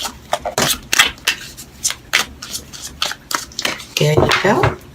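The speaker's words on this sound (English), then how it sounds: "Okay, I'm going to shuffle 2 more times" A deck of tarot cards is shuffled in a run of quick, crisp riffling bursts, close and fairly loud, while someone speaks over part of it.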